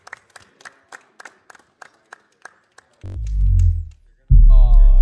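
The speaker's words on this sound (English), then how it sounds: "Golf course clap for Nick." Scattered, light golf claps from a few people at a pinball tournament final, polite and sparse, followed by bursts of loud voices and crowd noise close by.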